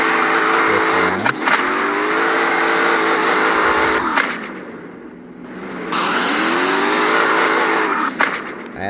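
Engine and tire noise from a car drifting in the Prodigy Drift video game, loud and continuous with a steady revving drone that dips briefly near the middle before surging back.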